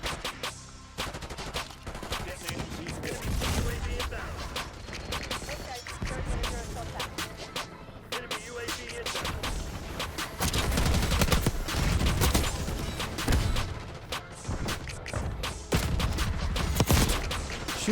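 Sustained video game gunfire in Black Ops 6 with a GPR 91 rifle and shotguns, dense rapid bursts and volleys filling the whole stretch, loud and close, with occasional talk under it.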